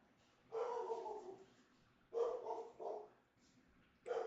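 A dog barks in the background of a home during a baseball broadcast. There are three or four short woofing barks, moderately close, with quiet gaps between them and no talk over them.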